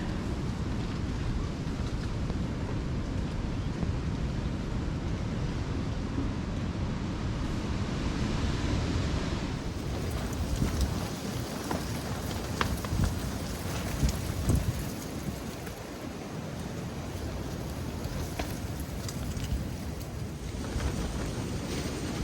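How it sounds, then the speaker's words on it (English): Strong wind gusting around a solo hammock camp in the woods at Pinckney State Recreation Area, a loud continuous roar that swells and eases in waves, with no voices. "Wind is insane."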